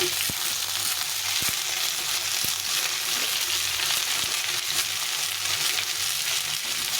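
Mixed vegetables, taro, pointed gourd and eggplant, frying in hot oil in a pan with a steady, dense sizzle throughout and a few sharp clicks of utensils against the pan.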